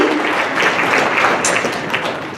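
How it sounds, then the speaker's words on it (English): An audience at a community cultural event claps in a dense, continuous burst of applause, with even loudness throughout the short stretch. "can we please have a round of applause"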